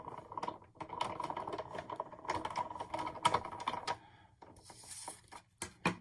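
A die-cutting machine presses a Move It die through paper on a platform, giving a rapid run of clicking, rattling mechanical taps with brief pauses and a few sharper knocks near the end, close and fairly quiet.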